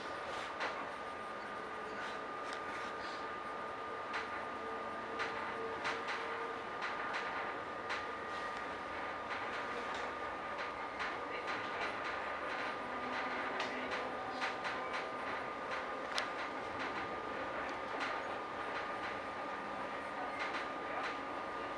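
A train runs on rails, heard from on board as a continuous rumbling roar with rapid clicks and clatter from the wheels, steady throughout and with no talk.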